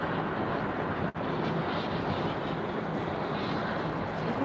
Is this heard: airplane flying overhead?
yes